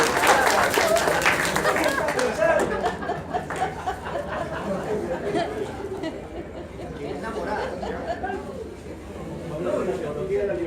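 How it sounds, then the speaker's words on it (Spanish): Applause from the audience at a Spanish-language panel on reporting in danger zones, loud at first and then thinning into crowd chatter and light laughter as the clapping fades. "Un fuerte aplauso, por favor."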